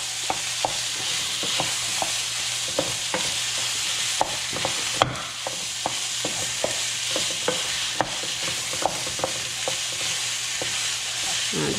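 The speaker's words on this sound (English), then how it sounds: "I'm just going to break it up with a wooden spoon really quickly" Pork mince sizzles and fries in a hot pan while a wooden spoon breaks it up, giving repeated close knocks and scrapes against a constant hiss with no talking.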